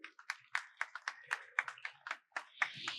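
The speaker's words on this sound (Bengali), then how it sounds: "ওদের জন্য একটা জোরে হাততালি হোক।" A small audience at a children's poetry event clapping in a sparse, irregular burst of separate handclaps, fairly faint and short.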